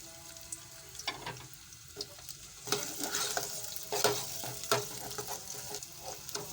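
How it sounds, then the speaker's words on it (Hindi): Onions sizzle and crackle in hot ghee in a pan, a steady close frying hiss broken by louder bursts of stirring and scraping, with no talking. "घी गरम हो चुका है, अब इसमें हम प्याज शामिल करेंगे।"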